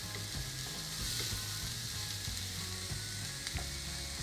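Chopped methi leaves fry in a pan with a steady bright sizzle, broken by scraping and rattling taps of a utensil stirring against the pan.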